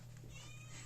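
A house cat lets out a single short, soft meow close by, over a constant low hum in a quiet room.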